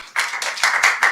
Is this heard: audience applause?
yes